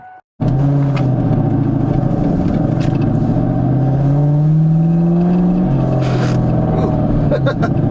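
A 2000 Ford Mustang GT V8 engine running steadily and loud, with a rising and falling rev as it pulls away, close and dominant throughout with no talk over it.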